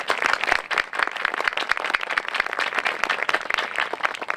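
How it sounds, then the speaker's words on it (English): A crowd at a high school groundbreaking ceremony applauds school board members, a steady dense clapping of many hands, moderately loud and continuous throughout. "Let's give them a nice round of applause"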